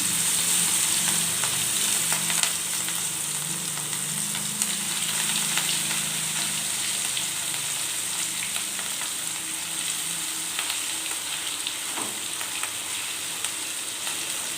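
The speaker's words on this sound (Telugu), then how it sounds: "ఇప్పుడు ఏంటంటే మనం చేపల ఆయిల్లో వేసేసుకుందాం ఫ్రెండ్స్" Semolina-coated fish pieces fry steadily in hot oil, a continuous close sizzle with faint scattered pops and occasional light utensil scrapes, no voices.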